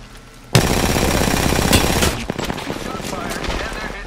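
Rapid automatic gunfire in Apex Legends breaks out suddenly and loud, hammering in a steady close-range burst for a second and a half, then trailing into scattered shots and impacts.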